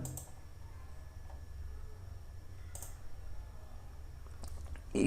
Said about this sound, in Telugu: ఓకే అని క్లిక్ చేయాలి